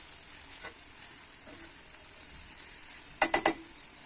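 Capsicum curry cooking in a pan on low flame, a soft steady sizzle close by, broken near the end by three quick metallic clinks of a utensil against the pan.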